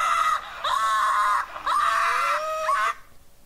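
A person screams in long sustained, high-pitched shrieks, three loud close bursts separated by brief breaks before it stops abruptly.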